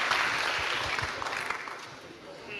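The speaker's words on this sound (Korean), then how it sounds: "여러분들의 목소리에 직접 답변하신 문 후보님께 다시 한번 큰 박수 부탁드리겠습니다" Students at a university lecture by a presidential candidate clap in a moderate, steady burst that softens toward the end, with faint voices underneath.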